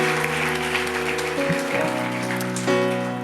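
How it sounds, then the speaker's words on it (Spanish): Church congregation applauding during a Spanish-language worship service, a steady wash of many hands clapping that sounds like rain on a roof, mixed with sustained organ or keyboard tones that shift pitch partway through. "Le das un fuerte aplauso al Señor."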